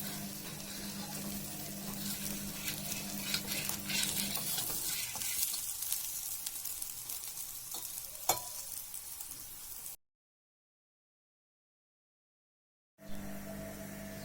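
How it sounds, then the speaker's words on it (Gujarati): Corn dhebra flatbread roasting in oil in a pan until crisp gives a steady close sizzle and frying crackle for about ten seconds. A short silent gap follows, then the sizzle returns. "હવે તેને એકદમ ક્રિસ્પી થાય ત્યાં સુધી શેકીશું અને ગોલ્ડન બ્રાઉન કલરના થવા દઈશું"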